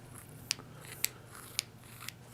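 An Atomic Beam USA flashlight barrel being twisted loose gives three sharp, evenly spaced clicks about half a second apart, faint and close, with no talking.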